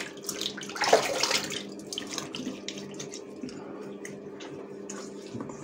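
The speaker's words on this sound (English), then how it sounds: "So, I wash up my face and then I will look." Running water from a faucet splashes as a face is washed before shaving with a Merkur 34G HD safety razor, loud at first and then a lighter, steady trickle with small splashes nearby.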